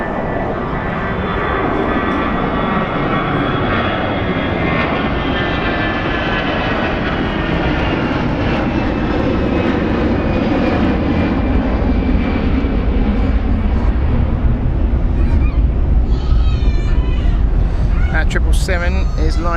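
Airliner at Zurich Airport in striking livery, its engines roaring steadily and loudly for the full stretch, with rising whine near the end and someone talking over the noise.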